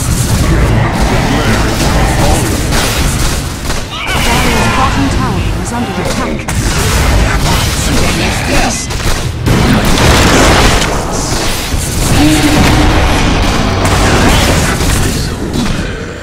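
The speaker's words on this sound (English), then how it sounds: "Dire's bottom tower is under attack." A tower under attack in the Dota 2 video game, with dense booming impacts, gunfire-like bursts and explosions layered in a continuous loud battle mix, and a voice speaking over it.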